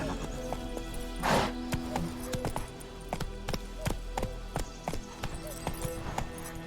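Roach the horse gallops in The Witcher 3: Wild Hunt, a steady run of clip-clop hoofbeats with a brief whinny early on, close and moderately loud over a low ambient hum.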